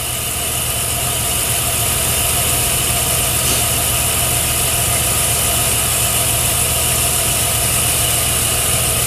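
A lathe turns a diameter with the feed engaged, giving off a steady, loud mechanical hum with constant motor drone and no pauses throughout.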